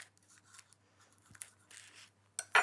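Scissors snip a small hole in a piping bag filled with garlic butter, a few faint rustles ending in one sharp, close cutting snip.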